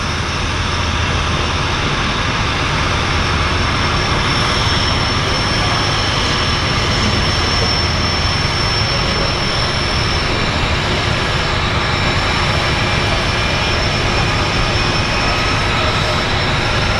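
A de Havilland Turbo Beaver floatplane's turbine engine at Vancouver's downtown harbour, a loud, steady, continuous roar with a high whine that does not let up throughout.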